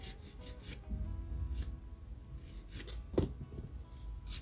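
Nail file rasping against a fiberglass gel nail, soft irregular rubbing strokes close up with a few sharper scrapes, quiet and without talk.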